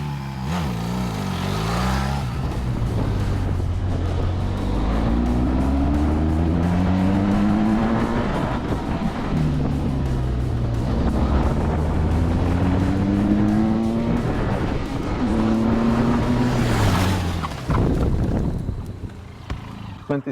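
Motorcycles race at the Motorland Dziekanów track, engines revving up and down through repeated gear shifts with whining, rising pitch, loud and close, and another machine roars past near the end.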